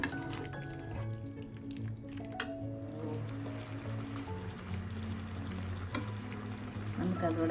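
Chicken pieces frying in a pan for biryani while being stirred and mixed, a steady close sizzle with scraping and clattering from the spoon throughout, a few louder knocks along the way, and no talking.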